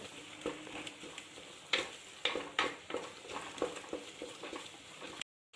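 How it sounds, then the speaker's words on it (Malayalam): Ginger-garlic paste is sautéed in masala in a pan while being stirred, giving a low, steady sizzle broken by repeated scraping strokes of a spoon, close up, before the sound cuts off abruptly. "ഈ ഒരു മസാലയിലിട്ട് നന്നായിട്ട് നമുക്കൊന്ന് സോട്ട് ചെയ്തെടുക്കാം"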